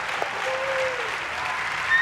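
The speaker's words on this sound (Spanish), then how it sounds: "Denles un aplauso." A church congregation applauds during a service, sustained even clapping from many people with a faint tonal whine running through it and no clear speech.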